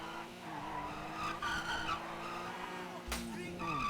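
A car in the FiveM driving game flies over a hill and loses control, tires squealing and skidding in repeated bursts over a steady engine tone, with a sharp impact-like burst near the end.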